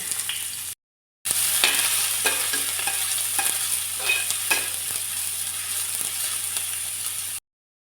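Chopped onion with cumin frying in coconut oil gives a steady, close, hissing sizzle, broken near the start by a short silence and then joined by scattered scrapes and clicks of stirring.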